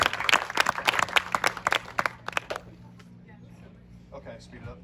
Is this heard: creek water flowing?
no